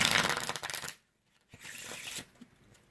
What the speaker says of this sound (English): we're also going to shuffle this